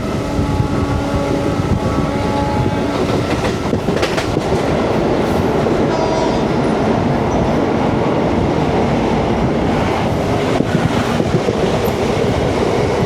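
The Parasuram Express passes on the opposite line beside a MEMU train near the Mayyazhi river crossing, a loud sustained rumble with rhythmic rail clatter and wheel clicks throughout, close by and unbroken by talk.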